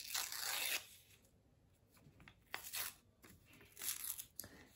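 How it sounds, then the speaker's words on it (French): The edges of white paper tear close up in several short ripping bursts, separated by quiet pauses. "On va déchirer, pour ce rituel-là, les bords du papier."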